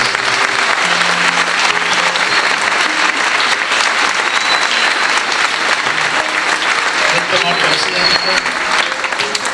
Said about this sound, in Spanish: Dale sí ese aplauso.